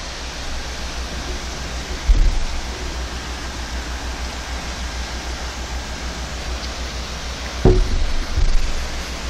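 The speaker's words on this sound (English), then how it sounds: "That's a nice waterfall." A small town waterfall gives a steady, broadband rush that fills the clip. Its level stays even throughout, with two brief low thumps near the listener.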